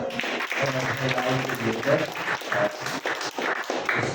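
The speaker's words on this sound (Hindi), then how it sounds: "जोर से ताली एक बार।" A congregation at a church prayer meeting claps loudly and continuously while a voice carries on over the applause.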